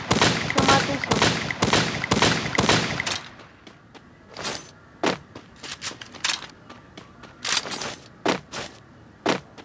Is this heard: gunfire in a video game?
yes